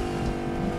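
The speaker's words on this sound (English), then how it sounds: "I'ma hop into that truck because I'm scared. And then I'ma drive away in that truck." An engine roars steadily as a truck drives off in a video game, a brief, loud, continuous motor drone with no speech.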